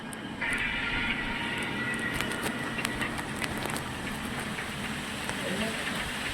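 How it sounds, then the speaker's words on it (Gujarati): Steady rain falls in Gujarat, a continuous dense hiss that holds at an even level throughout without a break, with faint voices in the background. "અત્યારે વરસાદ થઈ ગયો"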